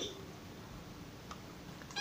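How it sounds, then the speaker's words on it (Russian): A domestic cat meows indoors, a few faint, short calls near the start and end over low room noise, with no talk. "ты кошка домашняя, никуда ты не пойдешь"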